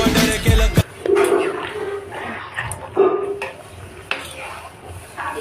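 Meat cooking in a pot, with close metallic clinks and scrapes of a utensil against the pot, plus a loud thump and a dog's bark near the start and faint background voices.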